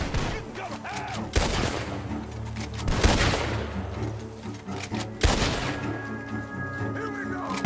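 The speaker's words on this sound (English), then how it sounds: "Gunshots are coming from that barn!" Gunfire rings out in a Red Dead Redemption 2 shootout near a barn, several sharp, loud shots punctuating a dense, noisy battle scene with overlapping bursts and background commotion.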